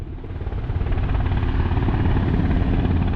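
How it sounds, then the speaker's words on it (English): A helicopter flies low over a beach on the Lincolnshire coast at Sandilands, a loud, dense rotor roar that swells in and holds steady throughout, with no voices. "this bloody helicopter, he's giving me a little show"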